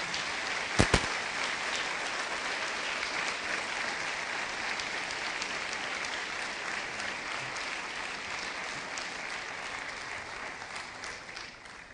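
A church congregation gives a sustained round of applause to the Lord, dense and steady throughout with a couple of sharper claps near the start.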